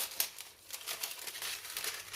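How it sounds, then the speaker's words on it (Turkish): Kitchen scissors trim excess baking paper in a circle, giving a run of crisp crinkling snips and rustles at close range, with no talking. "Ben fazlalığını makasla kesip alıyorum."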